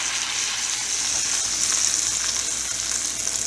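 A tomahawk ribeye sears in a hot pan with a steady, loud, close sizzle that holds even and unbroken throughout, no voices over it.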